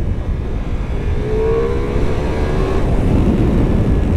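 Ducati Multistrada V4S motorcycle engine pulling hard in second gear in sport mode, a steady loud roar mixed with heavy wind rush as the rider accelerates, with no talking.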